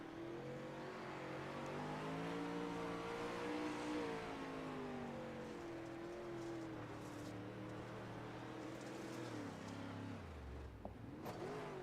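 Onboard engine of dirt race car number 531 at Lernerville, a loud, steady roar with shifting revs held throughout, dropping sharply near the end before a brief rise.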